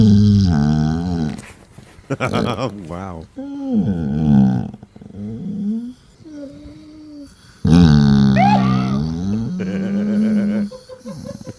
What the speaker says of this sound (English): This is a grumpy basset hound that just wants attention.